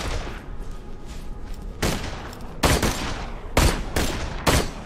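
A Hyperion sniper rifle in Borderlands 2 fires several sharp, loud shots at uneven intervals, each a sudden broadband crack over a steady bed of game ambience, with no talking.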